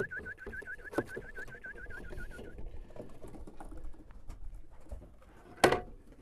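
Racing pigeons patter and coo while passing through a loft trap toward food, with soft fluttering, scattered clicks and a sharp clatter near the end, all fairly faint and close.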